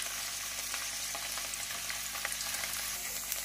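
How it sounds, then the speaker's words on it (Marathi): Paneer frying golden in a pan makes a steady, close sizzle with a fine crackle and soft popping, continuous throughout with no voices. "मी 250 ग्रॅम पनीर घेतलेला आहे आणि हे हलकसं गोल्डन आपल्याला फ्राय करून घ्यायचं आहे"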